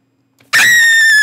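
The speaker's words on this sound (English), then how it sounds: "You scream like a little girl, Freddy." A video game character named Freddy lets out a loud, sudden high-pitched scream that starts abruptly and holds steady for under a second, shrill and alone with no talk.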